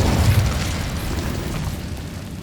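Incendio fire spell blast in Hogwarts Legacy, a deep booming whoosh that hits loud at the start and rumbles down over a couple of seconds.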